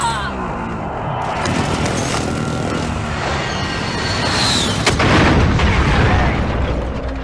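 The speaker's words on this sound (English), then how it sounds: "Enemy precision airstrike," Enemy precision airstrike in a combat video game: a dense barrage of crashing explosions and booms rolling on for several seconds, loud and close, with a heavier blast partway through and faint voices under the din.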